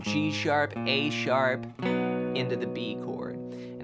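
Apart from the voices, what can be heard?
No everyday noise stands out behind the speech.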